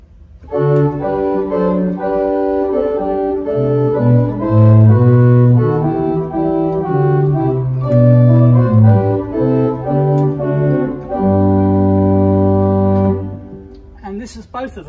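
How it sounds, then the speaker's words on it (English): A Willis church pipe organ sounds its number 1 open diapason 8 foot stop, a broad, full flue tone, playing a continuous phrase of sustained chords. It is loud and unaccompanied, ending on a long low held chord. "Compare this with the number 1, which is a bigger sound."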